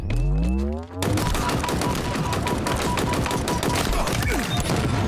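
Rapid automatic gunfire in a PC shooter video game rattles loud and continuous, following a brief low droning tone at the start.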